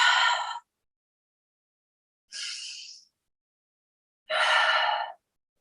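Three slow, audible breaths out during a vinyasa yoga flow, each a soft airy sigh close to the mic with silent pauses between them.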